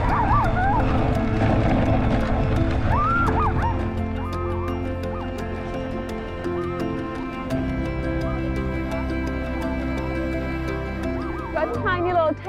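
Sled dogs on a wilderness mail trail bark and yip in excited bursts, high whines rising over a steady rumble, with people talking throughout.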